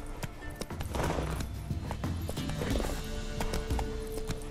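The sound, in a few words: horse Roach galloping in The Witcher 3 video game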